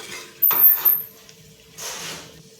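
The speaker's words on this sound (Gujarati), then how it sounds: "હવે આપણે ફરીથી એકવાર મિક્સ કરી લઈશું।" Spoon scraping and clinking in a pan while tindora and potato curry is stirred, two short bursts of metallic scraping with a quiet pause between, close and moderately loud.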